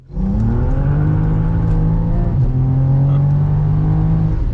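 BMW 335i with the N54 engine pulling hard on a test drive, a loud sustained engine note that rises steadily, dips briefly at a shift, then climbs again alone.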